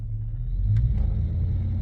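A 1999–2006 Chevy Silverado crew cab pickup with an engine idling steadily, a close, continuous low rumble with faint clicks, no speech.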